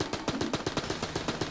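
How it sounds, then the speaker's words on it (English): Rapid gunfire at a boss in Enter the Gungeon, a fast regular burst of about a dozen close, punchy shots with no pauses. "I just wasted a lot of ammo shooting at his invincibility shield"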